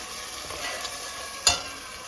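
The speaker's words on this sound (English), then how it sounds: "And let this fry down with the oil." Garam masala and turmeric spice blend frying in oil for chicken curry, a soft, steady sizzle with gentle stirring and a sharp clank of a utensil near the end.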